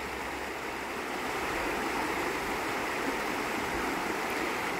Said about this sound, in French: Je vais vous laisser maintenant quelques instants en présence silencieuse avec la rivière